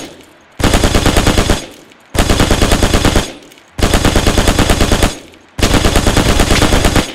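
Machine gun firing in the video game Hell Let Loose, loud close sustained automatic bursts, four long strings of rapid shots separated by short pauses.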